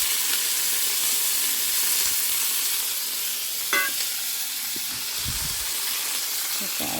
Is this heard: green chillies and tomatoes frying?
yes